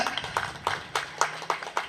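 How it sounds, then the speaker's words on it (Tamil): Several bursts of hand clapping from a small debate-hall audience at a Tamil pattimandram, arriving as a loose, uneven series of moderate claps with no voices on top. "அவருக்கு நல்ல கரவசம் கொடுங்க."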